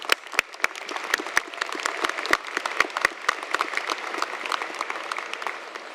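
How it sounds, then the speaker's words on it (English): A commencement audience applauds for graduates, with sharp individual claps standing out near the start before the clapping thickens into a continuous, even round that carries to the end. "Please join me in giving them a round of applause."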